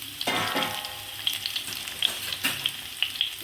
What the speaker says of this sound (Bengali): এবার এটাকে আমি ভালো করে একটু ভাজা ভাজা করব।